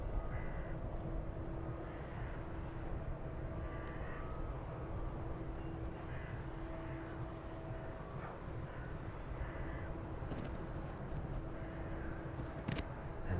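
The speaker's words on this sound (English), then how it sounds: "see how far the 757 rolls out this evening" DHL Boeing 757 cargo plane landing and rolling out at East Midlands Airport in the evening, a faint distant steady engine rumble with a low whine, continuous and without voices.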